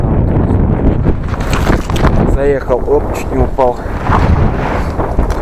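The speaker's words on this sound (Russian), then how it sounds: "Ветер задувает." Strong wind buffets the microphone in the mountain steppe of Mongolia's Bayan-Ölgii province, a loud continuous low roar and rumble throughout, with someone speaking briefly over it.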